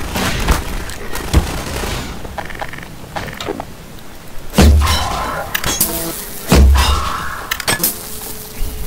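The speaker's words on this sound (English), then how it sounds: "Grenade." Grenade blast in a first-person shooter video game, several sharp booming hits with shattering debris, two heavy low thumps standing out in the second half amid scattered gunfire-like cracks.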